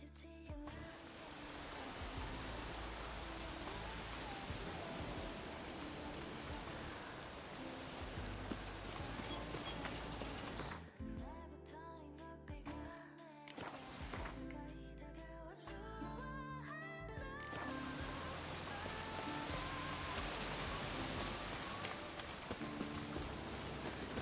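Steady rain falling in a dark, rainy video game world, a dense broadband hiss that drops away briefly midway before returning at full strength, with no talking over it.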